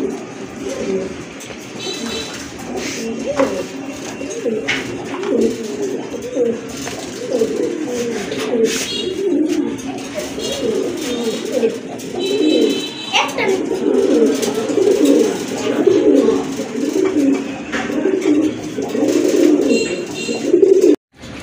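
Pigeons coo in soft, repeated low rolling calls, close and steady throughout, with someone talking over them.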